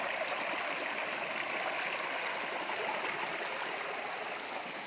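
Steady rushing water pours continuously, a close, full-bodied roar of Dabarkhola Waterfall in Badamba, Cuttack, with no pauses and no voices.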